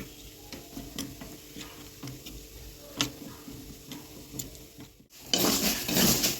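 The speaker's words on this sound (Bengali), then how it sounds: "এটাকে জল দিয়ে পেস্ট করে নেবো এখন" A spoon stirs spice paste of chilli powder, Kashmiri chilli and turmeric with water in a bowl, giving rhythmic light ticking clinks close by, ending in a louder burst of broad noise.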